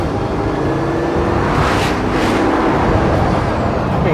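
A Bugatti Veyron Grand Sport, a 2013 supercar, accelerates hard under full throttle, a loud continuous engine roar with rising whoosh surges midway, heard close and without talk.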